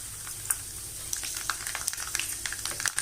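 Mustard seeds, fenugreek, cumin and urad dal sizzle and crackle in hot oil while tempering for a bitter gourd puli kuzhambu, with scattered sharp pops over a steady fry hiss.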